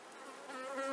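Honey bees hum at an open hive during an inspection. The buzz is dense and steady and swells slightly toward the end of the short stretch.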